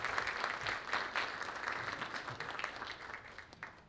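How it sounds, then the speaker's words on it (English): A school poetry recitation event audience gives a round of applause for the coordinators, a dense clapping wash that gradually thins and fades toward the end. "Let's give them a nice round of applause."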